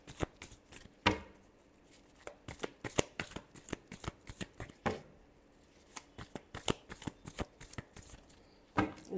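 Tarot cards are shuffled by hand in bursts of sharp riffling slaps and flutters, close and fairly loud, repeating irregularly across the stretch with no voice.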